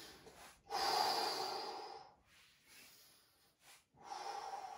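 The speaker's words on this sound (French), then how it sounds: "J'inspire." Close, loud breaths during a home strength workout, with a long rushing inhale-exhale followed by shorter, softer breaths and another strong breath at the end.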